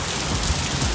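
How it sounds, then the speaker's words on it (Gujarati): Heavy rain pours in Surat, a dense continuous roar of drops on surfaces, loud and close, with a low rumbling undertone and no talking. "વરસાદ ફૂલ આવે છે"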